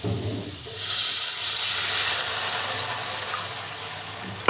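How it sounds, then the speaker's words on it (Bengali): Small fish cooked in a garlic curry sizzle and crackle in a hot pan, a close, steady hiss with a louder burst near the start that slowly eases off, with no talk. "এই যে চারিদিক থেকে একটা চিরবি চিরবি করছে এইটা হচ্ছে হয়ে আসার লক্ষণ"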